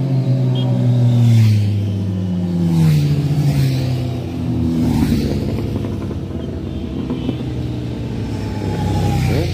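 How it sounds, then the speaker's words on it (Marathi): A superbike's engine revs hard and close, rising and falling in strong throttle pulls with a deep rumbling tone that stays loud and steady throughout, with no voices over it. "Super bike."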